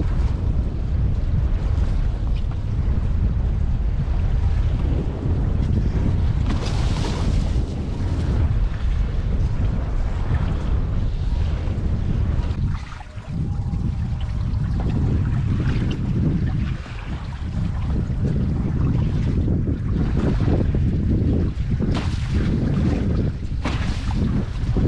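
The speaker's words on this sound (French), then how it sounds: "Le vent se maintient, c'est pas la folie non plus." Strong, steady wind buffets the microphone in a continuous roar during a wingfoil downwind run, with rushing water and board noise beneath it, briefly easing twice.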